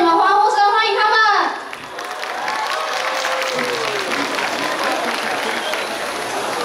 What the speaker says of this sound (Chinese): 用你们欢呼声欢迎他们